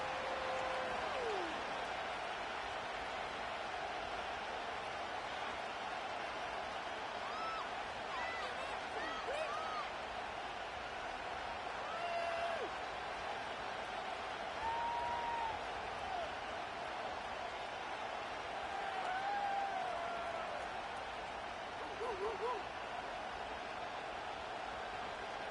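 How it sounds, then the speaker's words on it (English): A large stadium crowd at Nissan Stadium in Nashville, Tennessee, by the Cumberland River, makes a steady, distant roar with occasional swells of cheering. Faint speech sits under it. "The crowd is alive"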